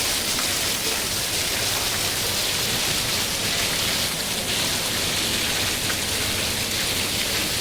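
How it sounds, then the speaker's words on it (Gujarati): Heavy rain pours in a dense, unbroken roar of countless drops striking surfaces, loud and constant throughout with no voices. "પાંચ મિનિટમાં જોરદાર વરસાદ પાણી પાણી થઈ ગયું છે"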